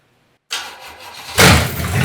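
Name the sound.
junk carbureted car engine starting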